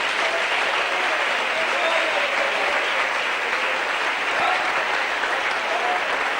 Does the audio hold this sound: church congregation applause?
yes